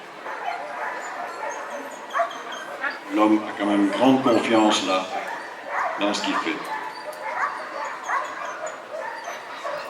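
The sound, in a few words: dog barking during bite work training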